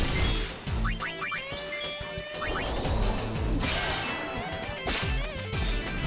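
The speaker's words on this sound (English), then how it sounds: "Let's get that fire breath going just in case." Fire breath attack from Final Fantasy X-2, a loud burst of crashing, whooshing game effects with sweeping tonal swoops and impacts layered over battle music, repeating in several bursts.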